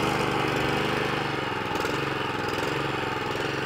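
Petrol engine of a Rota lawnmower with a clutched blade running steadily at close range after a pull start, a dense continuous mechanical drone with no break and no talk.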